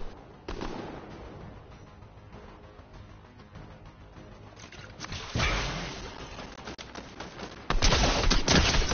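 Rapid bursts of gunfire from the Fortnite Chapter 3 battle royale game, with scattered shots early and a denser, louder volley near the end, heard alone without talk.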